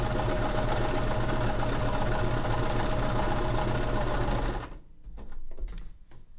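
A sewing machine stitching fabric for a cinch pouch runs in a steady, loud mechanical whir, then stops abruptly, leaving a few faint clicks and handling noises.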